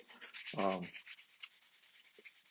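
A rag rubbing oil briskly into a wooden spoon, making a close, soft swishing rub with a short louder burst early on, then quieter strokes.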